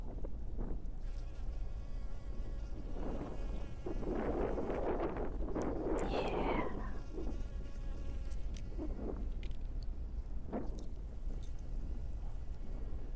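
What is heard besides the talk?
bees buzzing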